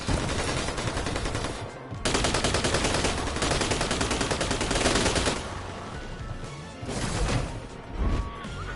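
Sustained heavy gunfire from a Borderlands-style video game, dense automatic bursts and crashing impacts filling the stretch loudly, with brief dips before the firing resumes.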